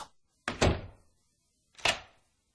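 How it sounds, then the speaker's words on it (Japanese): An indoor door shuts with a solid thunk, followed about a second and a half later by a second sharp clunk as it is locked, both close against a silent background. "そして後ろ手にドアの鍵をかけたのだ"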